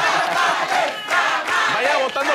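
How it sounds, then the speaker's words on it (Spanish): At a comedy show, a crowd roars and shouts in loud bursts, more yelling than clapping, with the noise swelling and dipping several times. "fuerte el aplauso para ellos"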